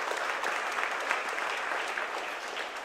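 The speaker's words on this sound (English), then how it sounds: "Let's give a round of applause for all of them." Steady applause from a gathered crowd at a media democracy after-party, a dense even patter of many hands clapping throughout, somewhat distant and moderately quiet.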